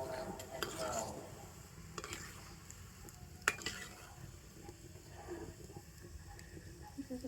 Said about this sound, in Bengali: আর এবারে যে কটা আছে সে কটাকে একটু লাল করে ভেজে নেব।